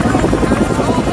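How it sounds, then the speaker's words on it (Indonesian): A military helicopter flying overhead in a war film, a loud close continuous rotor chop and engine roar filling the whole moment. "helikopter terbang melewati tumpukan itu"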